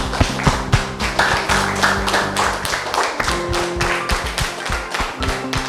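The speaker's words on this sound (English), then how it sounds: "a big round of applause for all of you" Students in a school classroom clap, with distinct sharp hand claps in an irregular, fairly close pattern over a low background hum, no talking.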